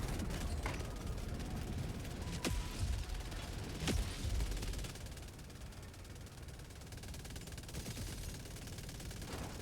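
Sustained rapid gunfire in the video game Helldivers 2 during a fight against bots, dense automatic bursts with a few sharper loud shots standing out.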